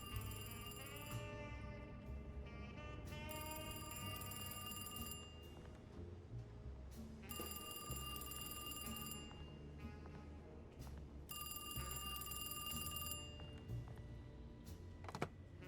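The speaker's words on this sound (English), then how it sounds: "I'll get the phone." A telephone ringing in the survival horror video game Alone in the Dark, with repeated bursts of bright ringing at a steady rhythm set over a continuous busy low backdrop of game sound.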